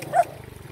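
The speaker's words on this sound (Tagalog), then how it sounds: "Mga aso na yun, parang kinakakita ng tao." A single short dog bark, fairly close, amid outdoor background noise.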